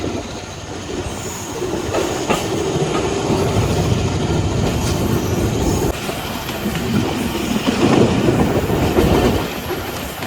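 A train rolls past on a Karachi railway line, wheels squealing and clattering in a steady, loud, continuous rumble close by, swelling slightly toward the end, with no voices over it.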